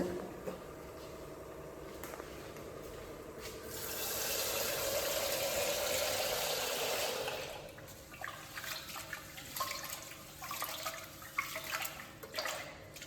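Rice being washed in a kitchen: a steady rush of running water swells for a few seconds, then gives way to lighter splashing, swishing and scattered drips, close by with no talking.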